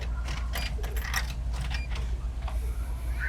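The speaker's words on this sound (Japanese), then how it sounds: "小銭を入れて、" Coins clink and rattle as they are dropped into a drink vending machine, several quick metallic taps and jingles close by, with a little talk around them.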